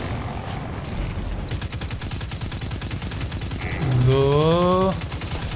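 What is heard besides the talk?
gunfire in the video game Destiny 2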